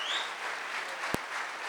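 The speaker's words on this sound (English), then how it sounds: "let's give them a huge round of applause" Applause from an audience at a Tata truck launch event with Akshay Kumar, a dense steady wash of clapping sustained throughout, with one brief sharp knock standing out near the end.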